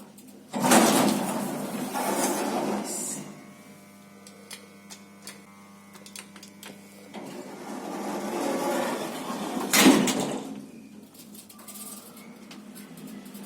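The doors of a 1980s Otis service lift slide and thump in a building, with two loud bursts of door movement around a low steady mechanical hum, light ticking and clicking, and a faint voice.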